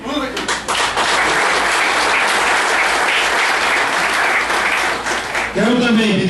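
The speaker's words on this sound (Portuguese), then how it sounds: "o povo está aplaudindo" A crowd at an outdoor political rally in Toritama claps loudly and continuously. Voices shout over the clapping at the start and end.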